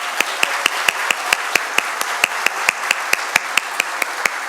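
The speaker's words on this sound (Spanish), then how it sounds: "le damos un fuerte aplauso a nuestro invitado" Applause for a guest speaker after a talk on an agricultural tax law, though it comes across as a steady run of sharp, evenly spaced single claps, about four per second, rather than a crowd.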